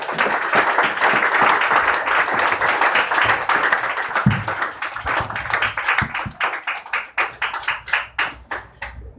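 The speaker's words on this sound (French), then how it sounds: "Acclamez les messagers." Church congregation applauding visiting messengers, a loud full round of clapping that starts dense and sustained, then thins into scattered individual claps as it dies away.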